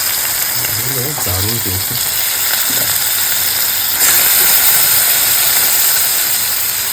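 Bombay duck fish sizzle loudly as they are laid into a hot frying pan, a steady bright hiss that swells stronger partway through, with a brief spoken remark over it.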